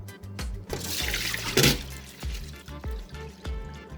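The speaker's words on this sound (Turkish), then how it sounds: "Pirincimi süzmekle başlıyorum." Soaked rice for almond pilaf being drained, water pouring and trickling through a strainer with scattered drips and clinks, close and moderately quiet with no talk.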